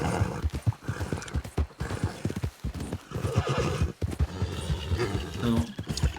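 A horse in the Western video game Notorious West gives rhythmic clip-clop hoofbeats and a whinny, fairly close and repeating in bursts under ongoing conversation.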